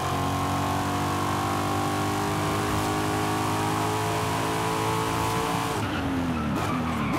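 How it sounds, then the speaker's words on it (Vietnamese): A 2020 Corvette Stingray Coupe racing in Forza Horizon 5 roars at high revs in a steady drone, then drops a gear near the end with a sudden shift in pitch and a burbling crackle. "Cái lúc giảm số nghe đã lắm nha."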